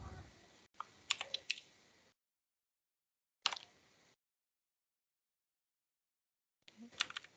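Computer keyboard typing in short clustered bursts of clicks separated by silent pauses, quiet and close, with no talk.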